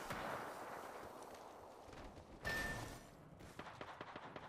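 Gunfire bursts in Apex Legends, a run of sharp shots with a louder blast around the middle and rapid cracks toward the end, set against dense game noise.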